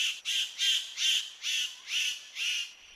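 Superb Bird of Paradise calling in a row of seven harsh, even bursts, each lasting about a third of a second, steadily spaced and fairly loud, with no other sounds around them.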